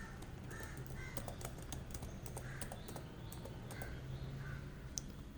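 Someone types a password on a computer keyboard: a scattered run of light, quick key clicks, fairly quiet, with faint crow-like caws in the background and no speech.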